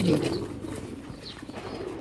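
Soft pigeon coos murmur close by, low and throaty, with faint rustling and a little background noise.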